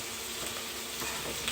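Steady, loud sizzling of food frying in a pan for red bell pepper soup, a dense continuous crackle and hiss that fills the whole clip with no pauses.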